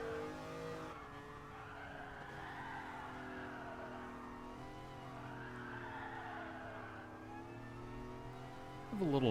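A car drifts in the Gran Turismo Sport video game, its engine droning steadily with rising and falling pitch as tires hiss and squeal through long slides, ending in a sharp louder burst.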